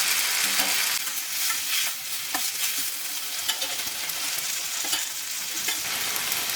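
Tomatoes tossed into a hot tempering for tomato gojju, frying with a continuous close sizzle while a spoon stirs and scrapes the pan in repeated strokes, no voices.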